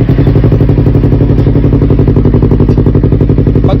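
A motorcycle fitted with an SC Project exhaust runs steadily at close range, giving a loud, even, rapid exhaust pulse with a deep rumble and no change in pitch.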